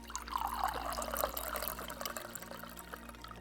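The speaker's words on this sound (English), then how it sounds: "He pours 2 glasses." Whiskey is poured into two glasses indoors: a quiet, trickling stream of liquid that swells and fades, with no talk over it.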